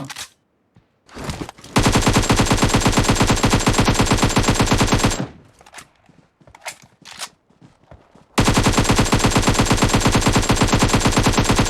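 Rapid automatic gunfire from a silenced gun in the video game PUBG Mobile, two long loud sustained bursts, separated by a few quieter thumps and clatter.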